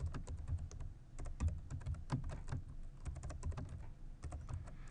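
Fingers type code on a computer keyboard in quick, irregular clicks that run continuously for several seconds. The keystrokes are soft and close, with no talking over them.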